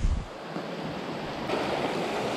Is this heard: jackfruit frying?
no